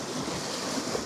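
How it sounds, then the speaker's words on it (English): Sea waves washing in on a rocky Scottish coastline, a steady broad hiss of surf and water at moderate distance, with no voices. "there's a little bit of water just coming in every time every time a wave comes in"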